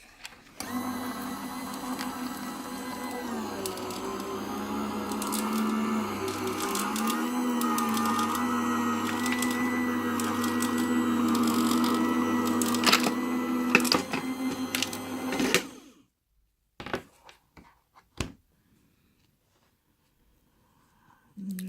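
A Gemini Junior die-cutting machine feeds a board through with a steady motor hum and grinding whir that shifts pitch midway. It stops abruptly after about fifteen seconds, and a few clicks and handling knocks follow.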